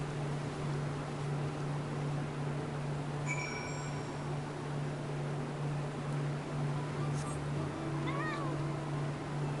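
A corpse cat mount in a video game lets out a couple of brief meows over a steady low hum of game ambience, with no talking.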